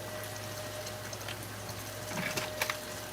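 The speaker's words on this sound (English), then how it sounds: "we have our rice that we're going to rinse out." Rice being rinsed under running water in a home kitchen: a steady, close rush of flowing water with a few light knocks and splashes near the end. No one speaks.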